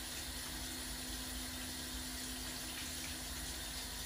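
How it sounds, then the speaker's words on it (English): Steady running water from a tap pours continuously while hands are scrubbed beneath it, a dense even hiss with a faint hum, no pauses and no talking. "The back of my hands, I'm going to wash it, making sure I clean in between my fingers."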